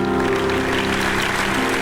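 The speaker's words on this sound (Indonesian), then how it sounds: "Tepuk tangan dulu dong buat Dwi." A studio audience at a televised stage show applauds Dwi, a dense, continuous wash of clapping that stays loud and even throughout.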